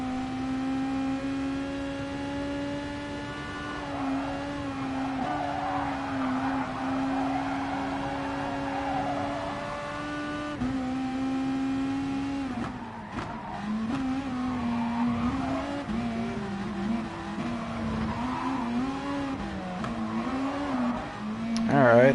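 A Toyota Supra FT1 race car in a Gran Turismo Sport rolling-start online race, its engine holding a steady high drone that climbs and drops through gear shifts, with a commentator talking over it.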